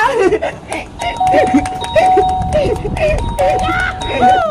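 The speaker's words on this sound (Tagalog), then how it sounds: "pwede na akong magpindot sa doorbell nila" A doorbell chimes repeatedly in short tonal rings while a person keeps talking over it, close and fairly loud.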